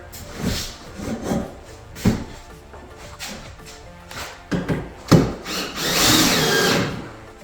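A power drill whirs in short bursts, driving screws into 2x4 wood boards for garage shelves, with clunks and scraping between runs and one longer, louder spin near the end.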